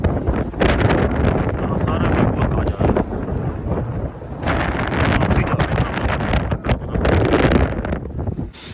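Strong wind drives sand across a dry riverbed at Demul in Lahaul Spiti, buffeting the microphone in loud, sustained gusts that surge and ease, with a voice barely showing beneath the roar.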